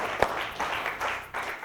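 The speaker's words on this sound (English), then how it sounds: "Give him a round of applause." A studio audience at a talk show claps in brief, moderate applause, a loose patter of hands with a few sharper claps, fading in and out over a second or two.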